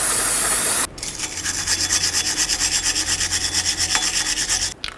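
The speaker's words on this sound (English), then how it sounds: "I'll hit it with some parts cleaner and then I'll hit it with a wire brush." Wire brush scrubbing the cleaned rotor mating surface of a front wheel hub on a 2007-12 Dodge Caliber during a brake job, a steady rhythmic rasping back-and-forth lasting about four seconds, close and fairly loud with no talking.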